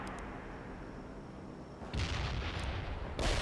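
Artillery and gunfire in the World in Conflict strategy game: after a low rumbling lull, a loud booming burst erupts near the two-second mark, then a second heavy blast follows at the end, with no talk.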